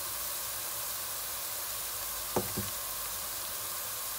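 Onions with a little salt and turmeric frying in a pan, giving a steady broadband sizzle with one or two brief knocks of a spoon stirring near the middle.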